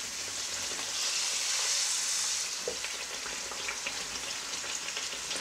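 Chebureks frying in a pan of hot oil on a kitchen stove, a steady close sizzle and crackle running throughout with small pops scattered on top.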